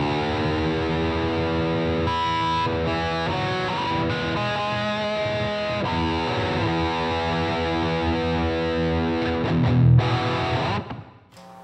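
Loud, crunchy distorted chords from a Fender Modern Player Telecaster Plus electric guitar played continuously, with sustained ringing notes and a heavier strummed swell near the end before the sound cuts off.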